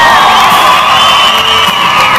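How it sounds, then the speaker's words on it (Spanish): An audience at a live concert in Quito, Ecuador, cheers and applauds, a loud, dense roar of crowd noise that holds steady for the whole moment. "Un aplauso para"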